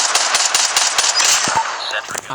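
Gun turret firing in the mobile shooter game Call of Duty Mobile, a dense, rapid automatic stream of loud gunfire bursts throughout, easing slightly toward the end.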